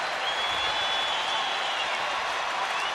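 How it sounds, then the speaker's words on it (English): A baseball crowd at a Detroit at Texas Rangers game stands, cheering and applauding in a steady, dense wash of sound that stays even throughout. "This crowd standing and supporting Roy Oswalt and the Rangers."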